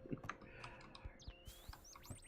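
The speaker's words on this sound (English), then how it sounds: "Get out of my face, bird." Chirps and tweets from a bird in a survival video game, faint and scattered among keyboard typing clicks and soft background noise, with short rising whistle-like calls near the end.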